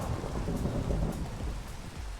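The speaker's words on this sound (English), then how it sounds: "Oh, it might be thunderstorming. Oh, it is thunderstorming." Steady rain hiss with low thunder rumble filling the whole short stretch in a Minecraft thunderstorm, constant and fairly loud, no voices.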